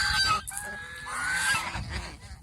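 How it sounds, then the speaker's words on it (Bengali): A female goose on a farm gives a few nasal, brassy honks close by, one after another against a soft background of other fowl. "এই যে একটা মেয়ে হাঁস দেখেন"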